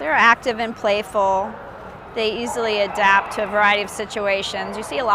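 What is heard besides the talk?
None of the usual background noises is heard.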